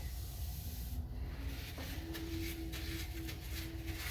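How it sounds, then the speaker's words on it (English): An industrial wipe is rubbed over uncured resin in a soft, steady scrubbing hiss, faint and close, with a thin hum running beneath. "So I've got a little bit of an industrial wipe here, that actually cleans the resin up really good when it's not solidified."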